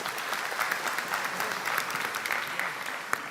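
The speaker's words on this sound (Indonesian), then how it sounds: "tepuk tangan buat Mas Yudi" An audience at a religious gathering claps in a dense, continuous burst that holds steady for several seconds, fairly soft and with no voices over it.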